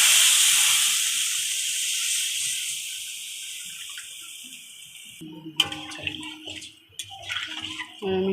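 Water is poured into a hot pan of spiced hilsa fish curry base, a steady broad rushing hiss for about five seconds, then sputtering and clattering as it settles, loud and close with no talk.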